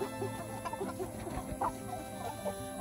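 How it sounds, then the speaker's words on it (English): Several meat chickens, many of them roosters, cluck in short, overlapping bursts close by, a busy coop chatter with scattered higher squawks. "Lots of roosters in here, so they can't stay for much longer like this"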